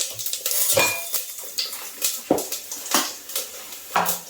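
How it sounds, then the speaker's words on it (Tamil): Cumin seeds and urad dal crackle and sizzle in hot oil for a kootu tempering, with scattered spoon scrapes and metallic clinks against the pan, close and moderately loud, with no talk. "ஸோ இப்போ வந்து நம்ம கூட்டுக்கு தாளிச்சிக்கலாம்"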